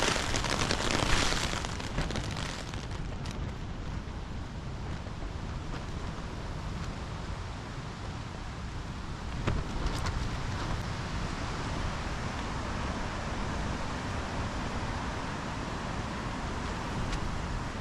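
Wind gusting against a tent at night on a wilderness camping trip near Beachy Head, a constant rushing roar with buffeting swells and occasional flaps, fairly faint and without talk.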